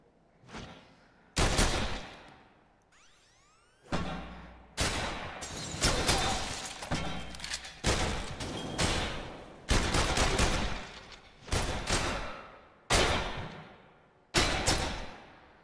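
Gunshots in a PlayStation VR shooting range game ring out in repeated loud, sharp bursts, a dozen or so volleys at irregular intervals, each cracking then decaying, with brief quieter gaps between.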